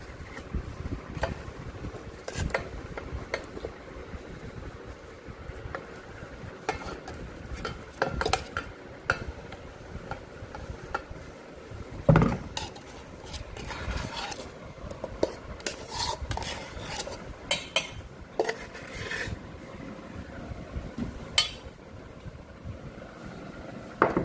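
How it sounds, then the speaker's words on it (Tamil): Frozen milk cream, stiff from several days in the freezer, is spooned into a mixer jar, giving a steady run of metal spoon scrapes and clinks against the jar, close and moderately loud with no talking. "இப்போ நம்ம எடுத்து வச்சுருக்கக்கூடிய இந்த ஒரு பால் ஆடையை நம்ம மிக்சி ஜாரில் சேர்த்துக்கலாம்"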